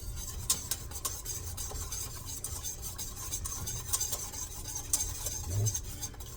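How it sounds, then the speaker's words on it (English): Steady scraping and stirring of liquid in a pot, a continuous metallic whisking texture with occasional sharper clinks. "You just want to whisk it real good."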